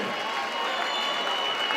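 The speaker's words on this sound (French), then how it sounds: "Il s'appelle Frédéric Lagier, applaudissements s'il vous plaît." Outdoor crowd applauding a stilt walker at the centenary of a bullring during a 10 km race event, a steady wash of many hands clapping with a faint murmur of voices, continuous and fairly loud throughout.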